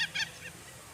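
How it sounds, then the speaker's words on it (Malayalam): An unidentified bird with a partly peacock-like colour on its front gives two short, honking, goose-like calls right at the start, followed by a quiet outdoor background. "പിന്നെ എന്ത് പക്ഷിയാണിത്?"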